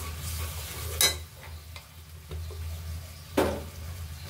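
Chicken stir-fried in a pan with blended garam masala of cinnamon, cardamom, cloves and bay leaf, soft sizzling under two sharp scraping stirs of a spatula, close and fairly quiet.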